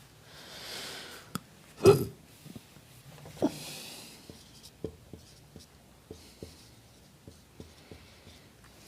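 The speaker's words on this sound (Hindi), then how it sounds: "थोड़ा सा इधर लिख देता हूँ ताकि वो भी लिखना पड़ेगा ना।" Chalk or marker writing on a board during a Hindi geology lecture on seismic waves. It comes as a series of short, faint taps and scratches in an irregular rhythm over a quiet room, with a few louder strokes early on.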